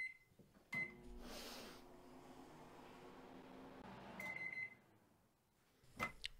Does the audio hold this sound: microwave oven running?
yes